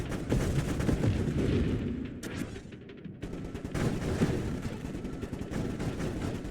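Void Gatler gun barrage in a video game, a dense rapid rattle of gunfire with heavy booming impacts, dropping out briefly midway before the loud fusillade resumes.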